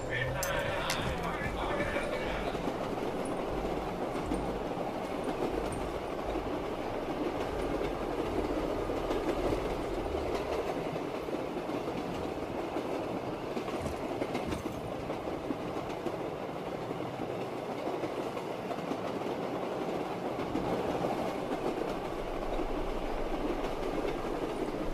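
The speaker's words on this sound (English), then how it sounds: "Watch your step when leaving the train." Train ride in Call of Duty Black Ops III Shadows of Evil: a steady, continuous rumble of rail wheels and carriage clatter running throughout at moderate level, with faint metallic rattles layered on top.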